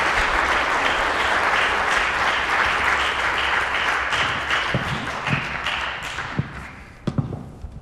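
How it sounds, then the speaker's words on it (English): An audience at a film festival Q&A applauds a filmmaker, sustained clapping that holds steady, then thins into scattered claps and a few thumps as it dies away at the end. "Give him a round of applause,"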